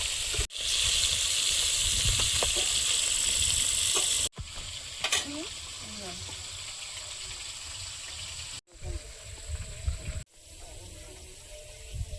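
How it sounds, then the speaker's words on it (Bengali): Gobo fish fries in a pan with a steady, loud sizzle that continues throughout, broken by a few brief clatters and cuts as the pieces are moved. "গোবো মাছ ভাজছি, গোবো মাছ"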